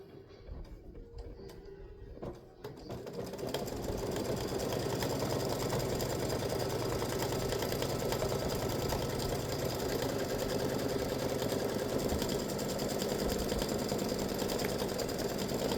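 An embroidery-capable sewing machine runs steadily and loudly, stitching a patriotic ice-cream tic tac toe game set; after a quieter start with a few clicks, the continuous mechanical whir holds unbroken for most of the stretch, with no talking.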